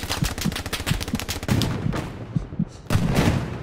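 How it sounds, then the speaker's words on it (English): Tommy gun bursts rattle in Hell Let Loose, the World War II shooter, loud rapid automatic fire in several clusters with thudding impacts and distant shots between. "Fucking Tommy gun tried to take me out again."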